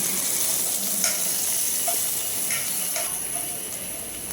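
Ingredients for gongura chicken with onions sizzle steadily in hot oil in a pan, a loud continuous crackle with occasional stirring clinks and scrapes.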